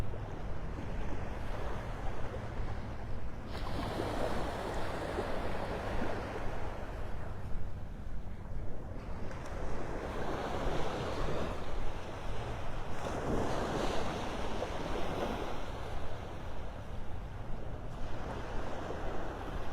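Ocean waves roll in on the beach at Delnor-Wiggins in North Naples, Florida, surging and receding in several broad washes under steady wind rumble on the microphone, with no talking.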